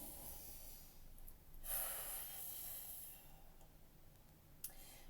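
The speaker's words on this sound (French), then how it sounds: "on va prendre une grande respiration" One slow, deep breath is drawn in close to the microphone, a soft, airy inhale swelling and fading against a very quiet background, with a tiny click near the end.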